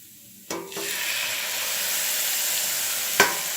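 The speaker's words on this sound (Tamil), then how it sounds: "இப்போ நல்லா நெய்யில் வதக்கின கேரட்டில் கொஞ்சம் பால் எடுத்து ஊற்றணும்" Milk is poured onto carrots already sautéed in ghee for carrot halwa, setting off a sudden burst of sizzling that settles into a steady, close bubbling hiss, with a small clatter near the end.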